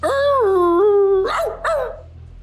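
A dog lets out a long, wavering whine, then two sharp barks close by, with no one speaking.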